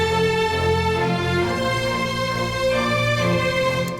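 Christmas orchestral strings: violins and viola carry a melody in octaves while cellos repeat notes and double basses hold the low end, a full, steady ensemble without voices.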